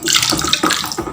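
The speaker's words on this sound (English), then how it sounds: "Now I'm going to be pouring this caustic soda into my nitrosol solution." Caustic soda being poured into a nitrosol solution while it is stirred for liquid soap, giving a steady close splashing, trickling pour with a few sloshing surges over about a second.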